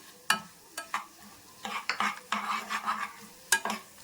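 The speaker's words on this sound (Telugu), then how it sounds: "ఇప్పుడు ఇందులో మనము కొబ్బరి తురుము వేసేద్దామండి." Grated coconut tipped into a frying pan and stirred over medium flame, with a spoon scraping and clinking against the pan in irregular strokes and a faint sizzle underneath, close and fairly loud.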